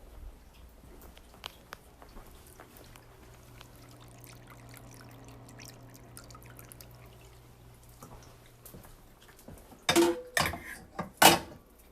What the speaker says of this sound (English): Let's see if you can hear the intricacies of this cat fountain.